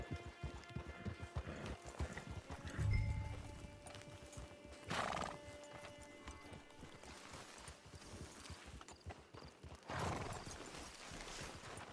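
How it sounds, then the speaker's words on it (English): A horse in Red Dead Online clip-clops on the ground, gives a loud neigh partway through and snorts again near the end, all close and without talk. "Get your horse."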